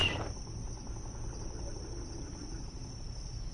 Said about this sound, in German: Da drinnen sind Frösche.